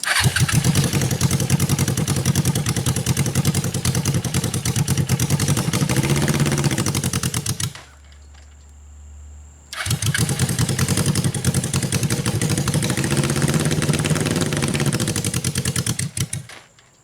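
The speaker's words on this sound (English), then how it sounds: "this is a very big engine, but this is also a very big go-kart" A big Suzuki engine fitted to a large go-kart runs in first gear with a loud, steady, buzzing clatter close by, cuts out briefly to a low hum, then roars back at the same pitch.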